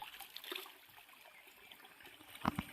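A natural spring in a remote spot at Seeppalakkottai in Theni district trickles faintly and steadily, low and distant, with a couple of brief louder splashes near the end.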